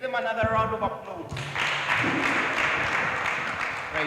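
Applause from the studio audience at a junior news-anchoring semi-final, breaking out partway through as a steady wash of clapping over a voice at the start.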